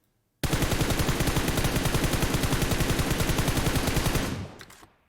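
A long unbroken burst of rapid automatic gunfire from a laser-sighted gun in PUBG Mobile, loud and dense, lasting about four seconds before cutting off and fading.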